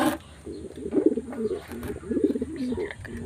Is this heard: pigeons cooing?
yes